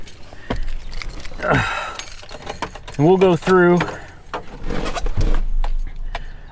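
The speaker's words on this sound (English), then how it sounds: "Let me find the keys here." Keys to a high-mileage Chevy 2500 truck jangling in a hand, several brief metallic rattles scattered between a man's speech.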